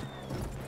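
Brief clip-clop of a horse's hooves in Battlefield 1, faint and quick, lasting under a second.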